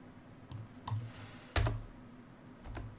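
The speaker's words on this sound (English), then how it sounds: "you could find these things simply by, you know, typing in payment and vendor" Keys on a computer keyboard tapped in short bursts, a few light clicks and then a firmer cluster of keystrokes near the middle, close by in a quiet room with no talking.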